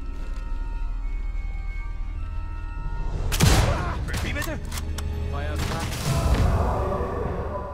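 Gunfire from the video game Sniper Elite 5: a sharp, loud shot lands partway through, followed by more heavy bursts and rumbling impacts over a low game soundscape with some voices.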